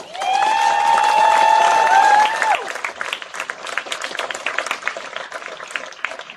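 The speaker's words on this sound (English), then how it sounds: "a big round of applause for both" Crowd applause for two netball teams at a senior league state championship grand final, a loud sustained burst with a high whistle at the start, then continuing as steady clapping across the hall.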